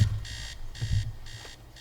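Alarm clock ringing in the video game Teardown, three bursts of bright electronic buzzing of roughly a quarter second each, evenly spaced, over faint low rumbling in the background, with no voices.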